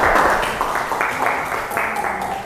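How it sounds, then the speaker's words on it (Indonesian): Hands clapping in applause during a school group presentation in a classroom, a steady, dense round of many hands for a couple of seconds, loud and close, with voices mixed in. "Tepuk tangan."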